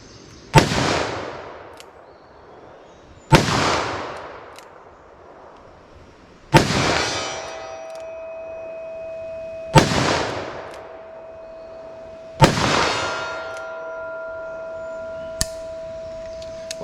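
.44 Magnum revolver loaded with 240 grain soft point rounds fired at a steel target: five loud, sharp shots spaced about three seconds apart, each followed by a ringing metallic ping and decaying echo outdoors.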